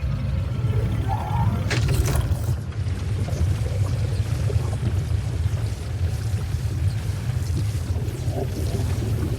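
A continuous low, sloshing hum with watery swishing, the Star Citizen Stinger spaceship, runs steadily throughout, like a dishwasher in a rinse cycle, with a brief hiss early on.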